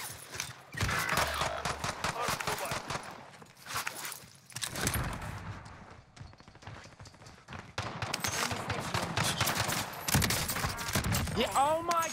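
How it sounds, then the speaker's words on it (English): Rapid gunfire bursts from the Call of Duty Warzone battle royale on Rebirth Island, crackling loudly and almost continuously across the clip, with brief lulls between volleys. "Taking direct fire."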